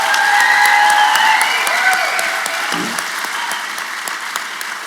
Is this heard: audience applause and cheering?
yes